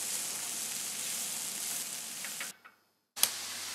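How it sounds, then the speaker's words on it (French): Chard, mushrooms and spring onions sizzle steadily in olive oil in a large pan, a continuous close frying hiss that cuts out briefly near the end, with a few faint ticks, then resumes. "dans une grande poêle je mets mon huile d'olive et on va faire revenir les blettes et les champignons"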